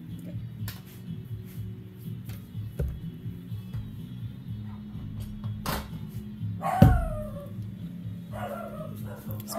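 A dog barks once sharply and loudly, followed by a few softer yips and whimpers, over a low background hum in a kitchen setting.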